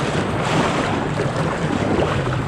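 Ocean surf on a Costa Rica beach makes a continuous broadband roar, loud and close, mixed with heavy wind buffeting the microphone, with no voices.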